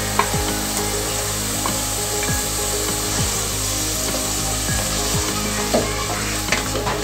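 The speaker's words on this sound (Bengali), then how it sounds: "এখন আমি সবগুলো মশলাকে ভালো করে মিক্স করে নিব" Garlic and ginger paste frying with spices in a pan, a loud continuous sizzle with repeated scraping and stirring strokes of a spoon against the pan, no voices.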